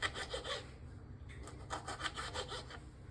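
A knife slices lemons into pieces for pickle, making faint, repeated back-and-forth sawing strokes against a board, quiet and close with no voices.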